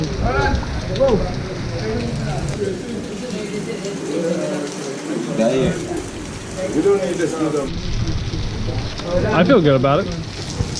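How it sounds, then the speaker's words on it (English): Rain falls steadily at an outdoor market-like food stall, a constant soft patter running under close conversation between several people. "It's rainy."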